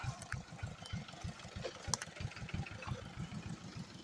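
A diesel tractor engine idles and chugs steadily nearby in a forest, its low pulsing throb repeating in a regular rhythm throughout.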